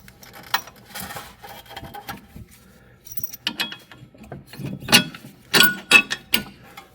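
Small metallic clicks, taps and scrapes come from a bolt being fitted back into the front suspension arm of a Jaguar XK8, sparse and close-up in an otherwise quiet workshop.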